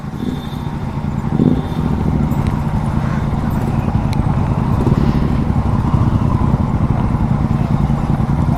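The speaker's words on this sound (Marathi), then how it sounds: "GT 650चा साऊंड बाप आहे" A GT 650 motorcycle engine on a ride to Panhala Fort near Kolhapur gives a loud, steady, deep throbbing beat that continues without a break throughout, with no talking.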